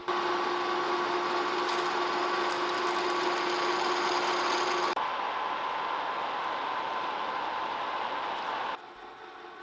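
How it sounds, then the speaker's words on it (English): A drill bores a hole for the shaft of a DIY tube-cutting jig's swivel base, a steady high whine with a constant tone that drops in pitch partway through and then eases off near the end. "Here I am drilling a hole for the shaft."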